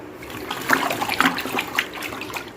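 Homemade citrus bio-enzyme liquid being mixed by hand, close sloshing and trickling water sounds with irregular splashy swirls, moderately loud and alone with no talk.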